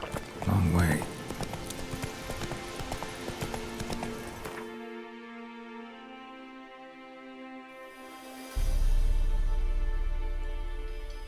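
Roach the horse from The Witcher 3 galloping with steady clip-clop hoofbeats under a music score, loud at first, easing into a sustained tone and then surging again.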